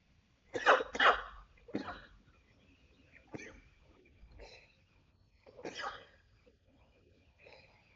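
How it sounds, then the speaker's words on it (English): Several dry, bursty coughs from a person with asthma, spaced unevenly, loud at first and then softer, close to the listener with no talking in between. "I don't know why I'm coughing so much right now."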